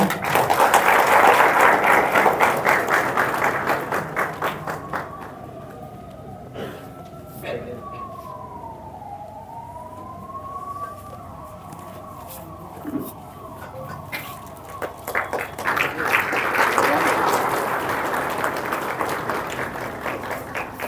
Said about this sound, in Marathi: आपण एकदा जोरदार टाळ्या वाजवूया.